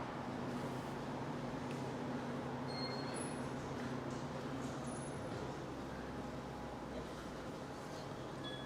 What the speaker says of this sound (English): Wyong station, waiting for a train that is heading to Newcastle interchange.